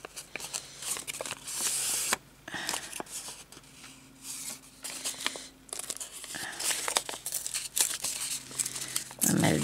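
Paper is torn and crinkled by hand while a journal page is embellished, with several close, rasping rips and rustles, broken by short pauses, and faint talk underneath.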